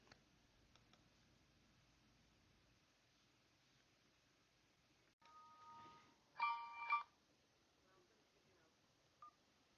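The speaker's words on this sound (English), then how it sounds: "I will again using a phone call to authenticate my new computer login." Phone-call tones for two-factor authentication of a computer login, a brief burst of faint dialing beeps followed by a louder cluster of keypad tones, then near silence.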